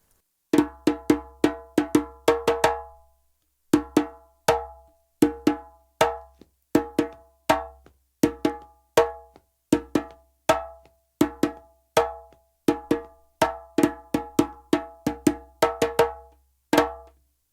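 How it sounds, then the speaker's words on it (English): A lone djembe plays the second accompaniment of the Diansa rhythm. A quick flurry of strikes opens it, then crisp slaps and tones follow in a steady looping pattern of short groups, close and clear with no voices. "Now we're going to learn the second accompaniment of DIANSA."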